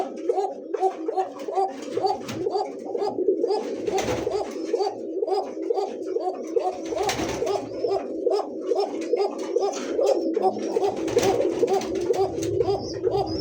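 A gola pigeon coos in a repeated rhythmic series of soft, throaty, gurgling notes, close and clear, continuing steadily with brief pauses and a little background noise.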